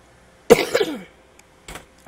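A single hoarse cough near the mic, followed a second later by a short, fainter throat sound, against a quiet room.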